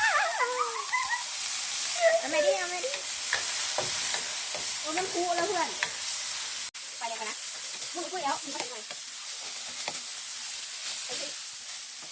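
Insect pupae fry and get stirred in a pan, a steady loud sizzle with repeated scraping stirs throughout; no voices.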